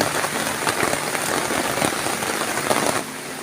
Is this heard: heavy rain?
yes